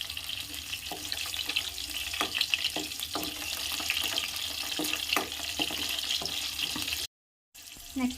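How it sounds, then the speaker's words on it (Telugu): Garlic and dried red chilies frying in oil with green chilies for paneer butter masala, a steady hissing sizzle punctuated by stirring clicks, then a brief silent gap and a short return. "నెక్స్ట్ ఎల్లుల్లిపాయలు, తర్వాత ఎండుమిర్చి కూడా వేస్తున్నాను. కొంచెం ఫ్రై అయినండి."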